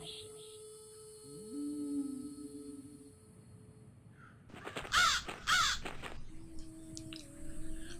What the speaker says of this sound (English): Okay, so a little telepathic communication with a bird there.